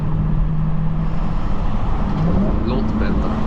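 Dodge Hellcat Charger driving through the rain, heard from inside as a steady low engine drone mixed with road and wet tire noise, continuous and fairly loud, with a faint hum rising in pitch near the end.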